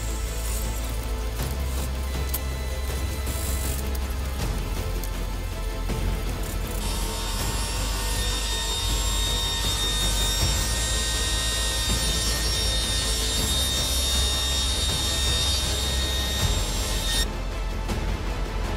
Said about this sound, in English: I could cut the other side on the table saw